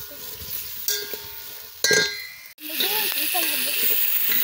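Onions and green chillies sizzle and hiss loudly in a pot while a metal spoon stirs and clangs against its side, with a sudden sharp clatter midway before the frying resumes close up.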